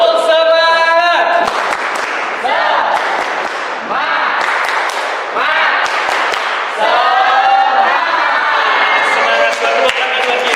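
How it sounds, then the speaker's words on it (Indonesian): A work-meeting audience claps together in a rhythmic spirit clap, bursts of loud clapping and cheering between stretches of voices shouting along, close and filling the room. "Tepuk semangat."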